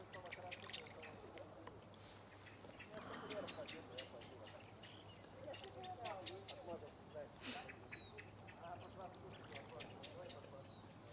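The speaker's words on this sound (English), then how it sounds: "Can you hear those birds?" Birds chirp and call at dusk in Queenstown, scattered bright tweets and trills over a low steady hum, faint and distant, with people talking at times.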